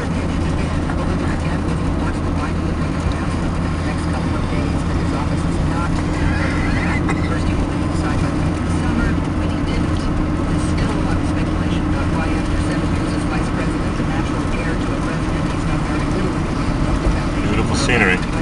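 A Chevrolet Suburban towing a trailer strains up a 12% mountain grade at low speed, a steady loud engine drone and road rumble running throughout with faint voices underneath.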